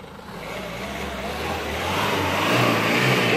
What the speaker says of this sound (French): Une belle voiture de compète.